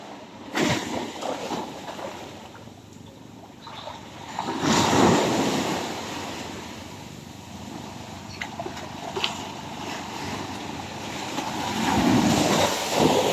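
Strong ocean waves surge and wash over a shoreline in broad, rolling swells, loud and close, with rises around the middle and the end.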